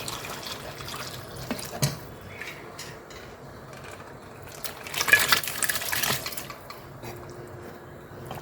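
Boiled mutton bone stock is poured into a curry, giving a soft, steady liquid trickle and splash at moderate distance, swelling briefly louder partway through.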